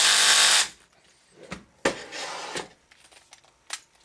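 Tightening a bolt on the chassis brace bracket of an HPI Baja SS, starting with a loud burst of tool noise, then a few sharp close clicks and scrapes of metal against metal.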